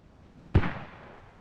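A single mortar round bursts in the distance on Logar Valley in the game Squad, one dull boom followed by a rumbling tail that fades out over about a second, with no voices.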